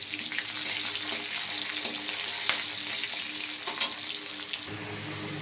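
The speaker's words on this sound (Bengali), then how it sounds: "আগে থাকতে কেটে রাখা পেঁয়াজটা দিয়ে দিচ্ছি, এটাও লাল লাল করে ভেজে নেব।" Chopped onion sizzles and crackles steadily in hot oil in a pan, a close, continuous frying hiss with small pops throughout and no talking.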